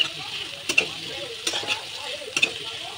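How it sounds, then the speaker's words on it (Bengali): Onions and whole cumin seeds fry in a small amount of oil left from frying paneer, a steady close sizzle broken by a few sharp scrapes of stirring in the pan. "গোটা জিরা দিয়ে এটা ভালো করে এখন আমি ভাজা নিই"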